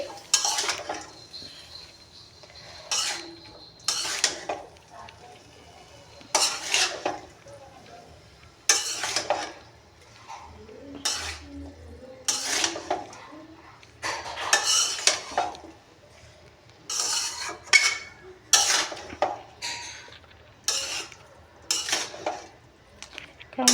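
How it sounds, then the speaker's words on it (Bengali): Boiled bottle gourd greens and spices being stirred in a pan: a long run of rhythmic metal scrapes and clatters from a spoon against the pan, each stroke a short, fairly close burst separated by brief pauses. "এখন আমি নেড়ে চেড়ে দিব"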